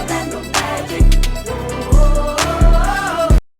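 A short burst of loud, punchy music fills the Orlando Magic team song, with heavy bass thumps on a driving rhythm and a bright layered melody that stops abruptly.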